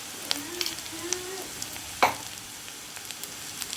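Potatoes frying in a pan with spices for potato kurma, a soft sizzle broken by a few scraping stirs and one sharper clack, fairly quiet and close, with no voices.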